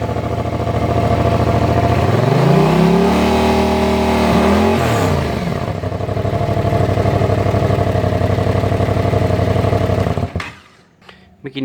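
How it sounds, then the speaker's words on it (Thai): Yamaha MT-07 motorcycle with a drilled stock exhaust, engine idling loud and close, rising through a brief rev before settling back to a steady throbbing idle, then cutting out near the end. "เมื่อกี้นี้ก็ได้ยินเสียงเดินเบาของท่อเจาะที่ผมเสนอไปวิดีโอก่อนหน้านี้แล้วนะครับ"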